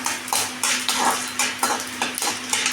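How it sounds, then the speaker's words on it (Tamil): A handful of dry coriander seeds roasts in a little oil in a pan, with rhythmic bursts of scraping and rattling as they are stirred over a constant low hum. "வரமல்லி போட்டு அதை நல்லா வறுத்துக்கலாங்க"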